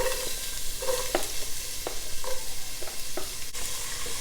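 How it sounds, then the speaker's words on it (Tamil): Onion sautéing in hot oil in a kadai for sambar, a steady close sizzle broken by repeated scraping stirs of a spoon through the pan, with no voices. "ஆனியன் பச்சை வாசனை போகிற வரைக்கும் நல்லா வதக்கிக்கலாம்"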